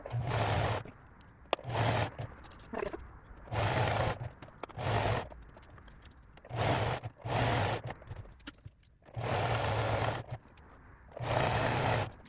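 Elastic is sewn onto fabric for a dress turned into a two-piece set, the sewing machine whirring in a series of short, close bursts separated by quiet pauses, roughly seven runs in all.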